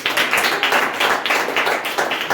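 A church congregation claps loudly and steadily together in a dense, continuous burst of applause with no voices over it.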